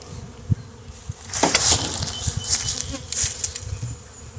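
Bees swarm and buzz loudly around a nuc hive box. A dense, continuous drone rises sharply partway through as wings beat close by, with a few soft knocks and scrapes from the box underneath.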